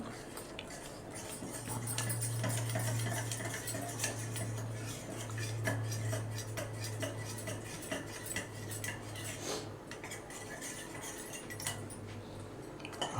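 A spoon clinking against a bowl while cornflour slurry is stirred, repeated light metallic taps and scrapes at a close, even pace over a low steady hum, with no voices.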